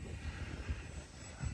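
A radio-controlled airplane flying in windy conditions, its engine or motor a steady broadband drone close by and moderately loud for the whole stretch, with no talk.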